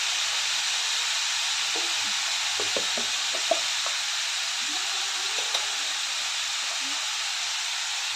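Radish pieces sautéing in a hot pan give a steady, even sizzle and hiss, with a few light taps of stirring against the pan, heard close and without voices.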